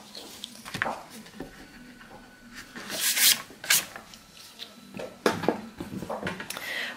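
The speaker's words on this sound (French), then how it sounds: "je vais gommer donc mes petits traits de crayon" An eraser rubs pencil lines off paper in short scrubbing bursts of varying strength, close and fairly quiet, with pauses between strokes.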